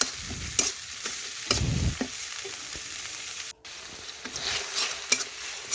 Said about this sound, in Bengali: খুরপি দিয়ে নাড়াচাড়া করে আমি দেখুন একটু ভেজে নিচ্ছি